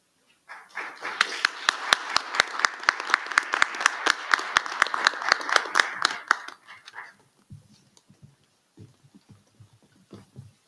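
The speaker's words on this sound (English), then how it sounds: "Give them another round of applause, won't you?" Audience applause at a Black History Month convocation rededication ceremony: a burst of crowd clapping with sharp rhythmic claps standing out for several seconds, then fading into scattered claps and murmuring voices.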